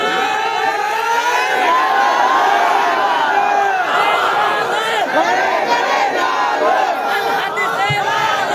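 A large crowd at an Islamic waz mahfil shouts a takbir chant in unison, a loud continuous roar of many voices that stays dense and steady throughout with no pauses.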